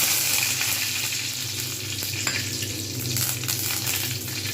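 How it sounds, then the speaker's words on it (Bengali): Curry leaves crackle and sizzle in hot oil while making masoor dal, a dense continuous frying hiss with occasional sharper pops, close and fairly loud. "এটা ভালোভাবে ভেজে নেবো"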